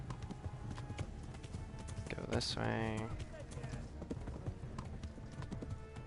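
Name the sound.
horse hooves clip-clopping while riding in Kingdom Come Deliverance video game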